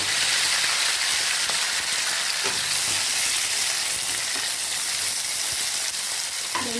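Tomatoes and green chillies sauté in a hot pan, giving a steady, dense sizzle that holds level throughout with faint stirring clicks and no voices.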